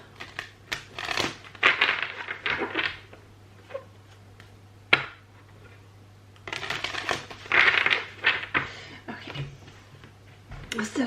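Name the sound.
shuffling tarot cards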